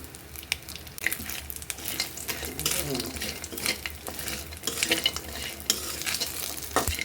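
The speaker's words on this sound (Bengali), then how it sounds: "কুমড়ো বড়ি ভাজতে বেশি তেল লাগে না, অল্প তেলেই ভাজতে হয়।" Pumpkin bori lentil dumplings frying in a little oil after fish, soft sizzling under frequent scraping stirs and clinks of a spatula against the pan, close and uneven.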